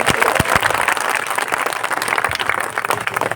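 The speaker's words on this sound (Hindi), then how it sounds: "एक बार तालियां बजा के आप भी उनका स्वागत करें।" A crowd applauds to welcome guests at a mass wedding ceremony in Bareilly: a dense, continuous wash of many hands clapping, steady and fairly loud throughout, with a few sharper individual claps standing out.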